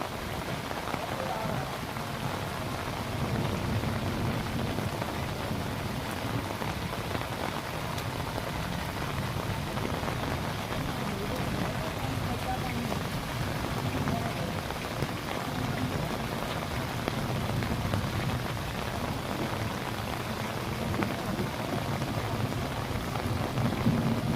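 Steady, dense rain pours down without a break in Rurka Kalan village, a constant hiss and patter of heavy drops on hard surfaces.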